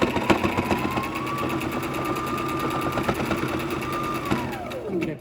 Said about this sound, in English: I'm just going to do a small top stitch all the way around.